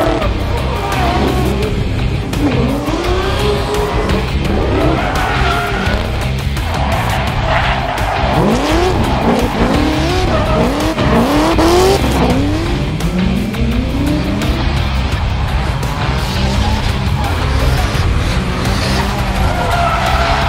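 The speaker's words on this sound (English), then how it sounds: "the guys from VICDRIFT were also running a drifting competition sponsored by Exedy Racing" Drift cars at a drifting competition on the Thunderdome at the Melbourne Jamboree, with engines roaring and tires squealing continuously in repeated rising and falling sweeps, loud and close throughout.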